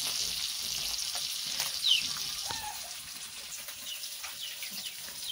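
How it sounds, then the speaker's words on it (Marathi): Boi mullet fish crisping in a pan gives a soft, steady sizzle at low volume, with a brief faint chirp partway through. "म्हणजे बोईट मच्छी आता थोडीफार मस्त एकदम कडक होत चाललेले आहे"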